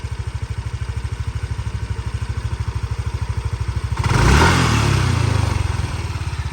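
A 2015 Yamaha NMax 125 ABS scooter engine idles with a fast, even putter, briefly revving louder midway before settling back to idle.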